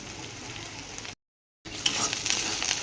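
Garlic paste fries in hot oil with onion paste and whole garam masala, giving a close, busy sizzle that cuts to brief silence, then returns louder and more crackly.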